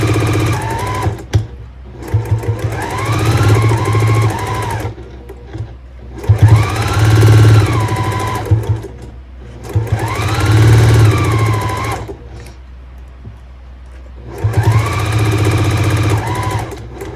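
A sewing machine stitching quilt pieces in loud, close bursts of rapid mechanical whirring, four runs of a few seconds each separated by short pauses, with a faint high whine rising and falling within each run.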